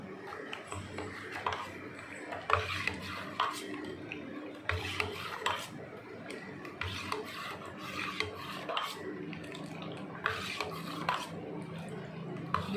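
A spoon stirs a falooda mixture of fruit and condensed milk in a glass, giving a quiet, continuous scraping and rubbing with small clinks against the glass, faint and close, with no one talking.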